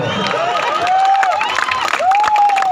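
A crowd at an outdoor Hindi poetry gathering (kavi sammelan) in Ambedkar Nagar breaks into loud, sustained applause and cheering. A poet's voice rises over the clapping.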